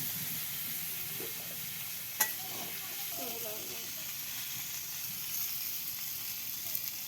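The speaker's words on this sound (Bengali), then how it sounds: "এখন সিদ্ধ করে রাখা আলু আর কলাগুলো দিয়ে দেবো" Boiled potatoes and green plantains, seasoned with turmeric, salt and chili, frying in oil with a quiet steady sizzle, one sharp clink from a utensil and faint background voices.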